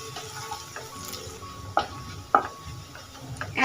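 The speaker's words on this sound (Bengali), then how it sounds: "রসুন কুচিটা ভেজে নেব।" Chopped garlic frying in a pan for dal tadka makes a faint sizzle, broken by a few sharp scraping stirs of a utensil.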